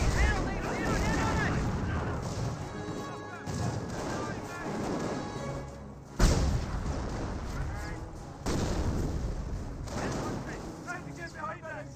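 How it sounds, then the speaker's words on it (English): Loud booming artillery shots from a British 25-pounder gun in the World War II strategy game Company of Heroes, several heavy blasts in a dense battle mix with a commentator talking over it. "And now we've got a 25 pounder"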